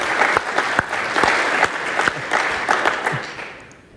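An audience claps loudly and steadily for about four seconds in a hall during a talk, with individual sharp claps standing out before the applause fades away at the end.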